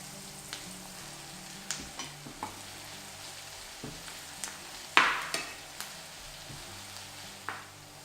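Spinach hits a pan with cumin for stuffed eggplant with chickpeas, giving a soft, steady sizzle dotted with small pops and one louder crackling burst midway, close and fairly quiet.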